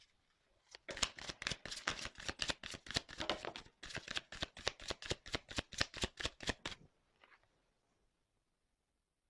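Tarot cards are shuffled up close in a rapid run of about twenty crisp riffling bursts, then the sound stops and only faint quiet remains.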